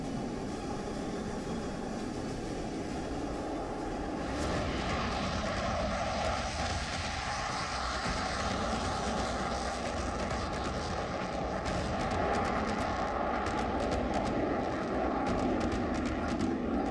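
A Rafale fighter jet roars in flight, starting as a moderate drone and thickening into a loud, sustained rumble after a few seconds, continuing steadily to the end without any speech.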